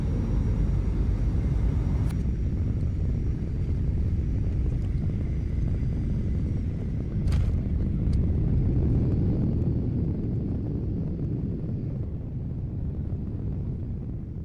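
A passenger airplane lands on a flight from Melbourne to the Gold Coast, with a loud, continuous low engine and cabin roar that stays heavy throughout and eases slightly toward the end.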